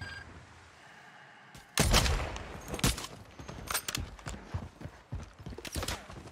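Gunfire in the video game Warzone 3: a sudden burst of sharp shots begins after a quiet moment, then keeps cracking in irregular rapid volleys, loud and close.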